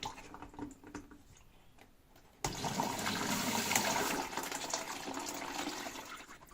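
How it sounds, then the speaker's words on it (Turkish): Water running into the middle compartment of a washing machine's detergent drawer, fed by two inlet valves at once; a steady splashing flow starts abruptly partway through after a quieter stretch of faint trickling. "Orta gözden su geliyor."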